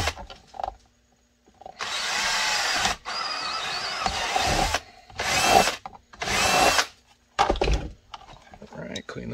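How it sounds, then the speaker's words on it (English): A power drill whines in several bursts of a few seconds each, revving up and stopping, with short pauses and brief sounds between them. "we'll drill out the two retention points."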